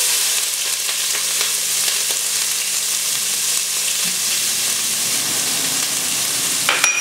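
Chopped onion sizzles in three tablespoons of hot olive oil in a preheated pot for seafood soup, a loud and steady frying hiss that lasts the whole time, with a brief stir near the end.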